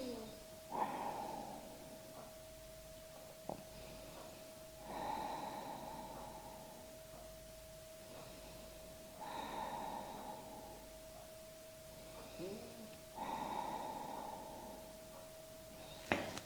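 Slow, deep breaths during a Hatha yoga class pose, four long inhale-exhale cycles spaced several seconds apart, soft and close over a faint steady hum.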